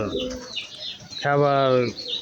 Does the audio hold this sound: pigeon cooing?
yes